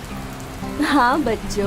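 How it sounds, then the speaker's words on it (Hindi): Steady first-rain patter falling throughout a cartoon story scene, a loud, continuous hiss under a voice that speaks over it in the second half. "बारिश आई, छम छम छम"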